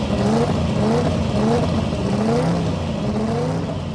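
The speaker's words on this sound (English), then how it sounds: "It has nothing in common with a normal Supra, using a custom-built chassis, composite body, air-shifted transmission and a twin-turbo Toyota V8 engine." The HKS Supra drag car, a twin-turbo Toyota V8 with an air-shifted transmission, runs at a Sendai drag event, giving a loud, continuous engine roar with rising pitch sweeps as it revs, heard without talk.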